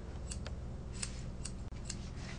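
Grooming scissors snip through hair during a grooming session, several soft, close metallic cuts at irregular intervals over a low background hum.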